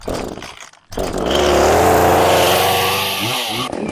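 A chainsaw engine is pull-started after the choke is closed. A brief tug is followed by a short pause, then the engine catches and roars loudly and steadily nearby, with a slight rise and fall in revs.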